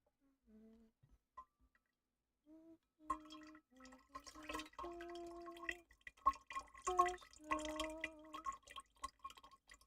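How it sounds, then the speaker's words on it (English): A water container being refilled: sparse pitched drips at first, then a denser run of trickling, splashing and dripping water, close and fairly quiet. "I forgot to refill my water, so we're just doing it now."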